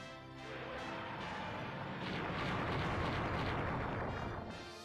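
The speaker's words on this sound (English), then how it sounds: "Fire Breath." Fire Breath attack in Lunar: Silver Star Harmony, a sustained rumbling, roaring blast that swells and holds for several seconds before fading, fairly quiet overall with no talking.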